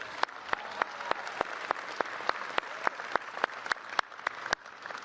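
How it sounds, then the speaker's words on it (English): A large commencement audience at Bridgewater State University applauds the graduating class, a thick steady roar of clapping punctuated by sharp, regularly spaced louder claps close by. "please join me in a warm round of applause for Bridgewater's finest"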